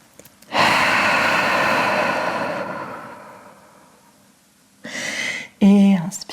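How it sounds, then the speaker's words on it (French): Deep, long breath drawn during a downward-facing dog yoga pose, a loud sustained airy inhale, a pause of quiet, then a shorter breath and a brief voiced exhale or sigh, all close to the microphone. "Et on prend une immense respiration une fois de retour en chien tête en bas."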